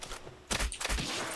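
A couple of loud, close gunshots in the video game Palworld, two sharp blasts in quick succession over a low background hiss.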